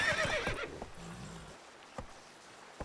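A horse in The Witcher 3 gives a loud, close whinny at the start, followed by a few soft hoof clops and thumps against a quiet background.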